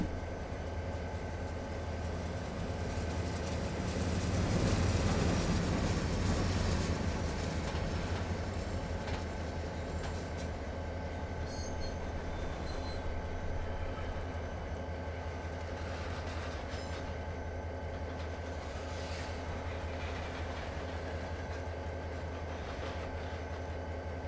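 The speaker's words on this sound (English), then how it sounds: "It looks like we're all clear with that train passing by." A simulated freight train passes by in Train Simulator 2020 on the Livonia Division's Monroe Sub, giving a long continuous rumble of rolling wagons with faint rhythmic clatter, swelling slightly early on and then holding steady, with no talk.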